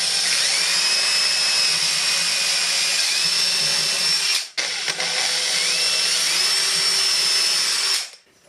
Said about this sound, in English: You want to make sure that you don't drill all the way through.